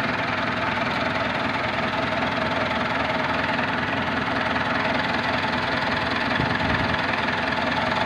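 A bus engine idles steadily during an alternator charging test, a dense continuous rumble with a faint knocking texture, close and constant throughout with no talking.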